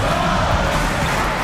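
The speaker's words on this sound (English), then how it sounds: "The crowd is on edge." A steady, dense crowd roar fills an eBasketball video game arena during a tense, close game, an even wall of noise with no clear peaks throughout.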